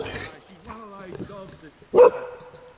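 A dog at a free campground in the King Valley, Victoria, gives one loud, sharp bark near the end, following a stretch of nearby talking.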